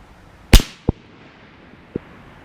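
One sharp, loud gunshot from a handgun firing light 10-grain blue ammunition at a steel target outdoors, followed by two fainter short pops or clicks.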